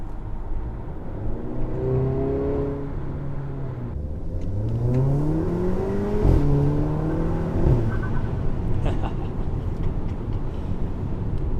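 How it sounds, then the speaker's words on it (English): An Audi A3 with a Milltek non-resonated cat-back exhaust and APR Stage 2 tune revs hard with a deep growl, pitch sweeping up and down in loud, close bursts; no one speaks. "more volume, a little bit more depth, more of like a nice kind of deeper growl"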